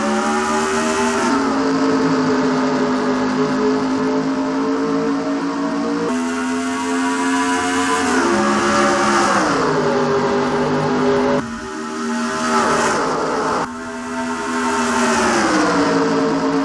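Video game NASCAR race cars at Las Vegas roar off at the start, a dense, loud wall of engine drone repeatedly climbing in pitch as the pack accelerates, with no voices over it.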